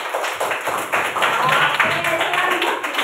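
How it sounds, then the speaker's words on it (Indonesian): Classroom applause from pupils after a correct answer in a math lesson, a steady patter of hand claps sustained for about three seconds at moderate loudness. "tepuk tangan ya"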